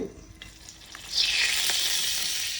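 Olive oil for a pasta and pizza sauce hits a hot pan with a bright, sustained sizzle that swells suddenly after a few quiet clinks and holds steady up close.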